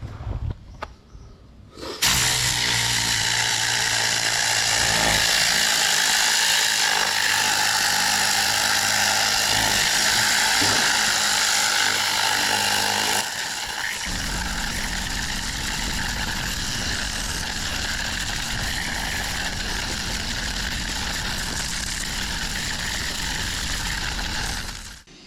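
An air-powered cleaning tool scrubbing the carpet of a classic Mini, a loud steady pneumatic whine and hiss that drops to a rougher, lower rushing tone midway, close and continuous.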